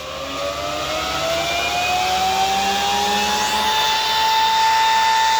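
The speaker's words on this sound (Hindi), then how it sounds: "अब जो एग्जॉस्ट फैन है वो थोड़ा सा डिफरेंट है।" An exhaust fan runs inside a poultry shed for layer chicks, giving a steady mechanical whir with a slowly rising whine that holds at an even, fairly loud level throughout, with no voices.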